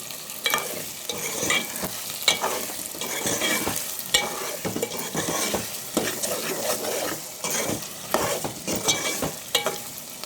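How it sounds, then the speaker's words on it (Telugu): Taro root curry with added rock salt is stirred in a pan as it cooks, bringing steady scraping strokes and clatter over a continuous close sizzle. "అన్నీ కలిసేలా ఒకసారి కలుపుకుందాం"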